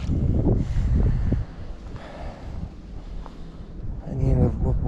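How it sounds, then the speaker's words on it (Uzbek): Wind gusting across a lake during a fishing trip, a steady broad rush that is loud at first and eases slightly, with a voice talking over it near the start and end. "Bugun shamol sekinroq ancha."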